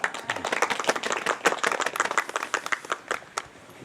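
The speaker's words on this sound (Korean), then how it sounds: "그래도 박수로 모시겠습니다" A small group at an outdoor worship service claps with distinct, sharp individual hand strikes, close and uneven, forming a brief scattered round of applause.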